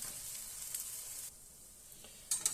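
Soft, steady sizzling of thin crepe batter frying in a hot pan, dropping quieter midway before a few louder clinks and scrapes at the end.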